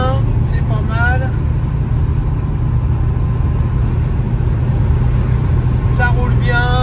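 A Studebaker car drives along with a steady, loud engine and road rumble throughout, heard from inside, while a person talks over it intermittently.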